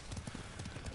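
Horse hooves clip-clop in a quick, steady rhythm in the video game Ghost of Tsushima, a short run of close, regular hoofbeats at moderate volume.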